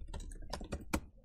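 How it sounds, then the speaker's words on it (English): A handful of quick computer keyboard keystrokes in an irregular typing burst while entering code, close and fairly loud with no talk. "So here we type main.innerHTML is equal to hello world"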